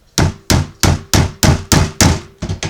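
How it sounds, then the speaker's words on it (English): A hammer taps down a wax foundation sheet in eight sharp, evenly spaced strikes, loud and close with nothing else heard. "hammer that down."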